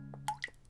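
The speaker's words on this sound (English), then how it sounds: "Oh, what is that dripping sound?" Cartoon water drips from a tap, a couple of quick, bright plinking drops close by, short and soft against a quiet background hum.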